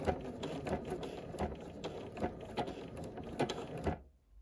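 A sewing machine works a blanket stitch around a fabric appliqué heart, a close mechanical clatter of needle strokes in a steady rhythm of short bursts that stops abruptly near the end.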